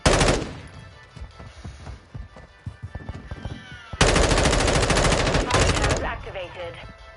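Rapid bursts of video-game machine gun fire rattle loudly, first as choppy staccato volleys and then as a dense sustained stream, with a brief voice line heard over the gunfire.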